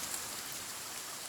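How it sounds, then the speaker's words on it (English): Steady, dense hard rain pours throughout in The Forest video game, a continuous broadband hiss of downpour with no voices or other distinct sounds. "It's a hard rain."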